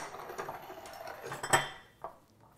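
A serving spoon clinks against a dish while a harvest-themed vegetarian meal is laid out, giving several light scrapes and one sharper clink near the middle, close and quiet.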